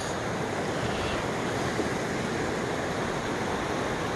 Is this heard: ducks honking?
no